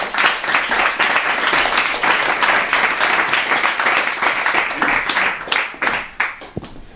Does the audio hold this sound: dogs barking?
no